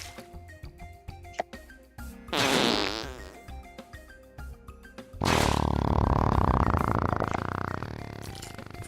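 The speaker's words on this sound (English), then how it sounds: "The fart kill, man. It gets louder every time" A cartoonish fart attack sound effect in the video game Strange Seed blares over game music, a shorter rasping blast followed by a longer, louder sustained one.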